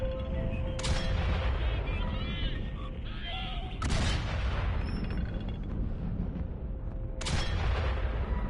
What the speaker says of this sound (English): precision cannon firing